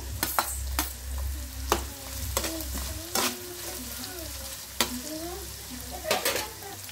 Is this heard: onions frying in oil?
yes